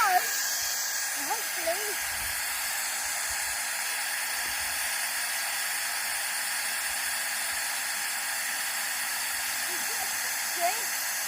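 A toy fire engine hose sprays water in a steady, continuous hiss that fills the whole stretch, with faint brief vocal sounds at the start and end.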